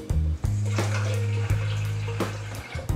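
Tap water running into a bowl to measure 2.5 decilitres for homemade pizza dough, a close, steady gush with a brief break near the start and the stream stopping just before the end.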